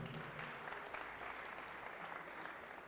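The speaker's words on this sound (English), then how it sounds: "Please give a big round of applause." Audience at a university orientation event bursting into steady, sustained applause, a dense wash of clapping hands that fills the room from start to finish with no talk over it.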